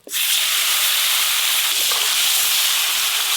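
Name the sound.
shankar fish fat sizzling while frying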